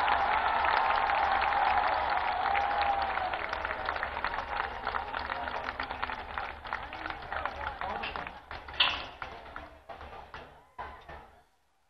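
Audience applause welcoming Prime Minister Narendra Modi at a Vijaya Dashami celebration in Dwarka, dense clapping at first that thins out and fades over the clip.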